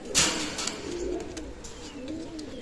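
Pakistani teddy pigeons at a pigeon loft coo softly and briefly, with a faint bird sound at the start and a low, quiet background hum.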